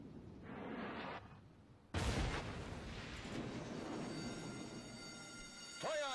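World of Warships naval artillery shells fire and burst in heavy booming blasts, a muffled rumble giving way to a loud explosive crack and long roaring decay, with another sharp blast at the end.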